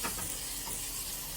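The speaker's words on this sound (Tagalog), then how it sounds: "Prito na natin." Salmon fries in butter in a pan, a soft steady sizzle and crackle heard up close at low volume for a brief moment, with no voices.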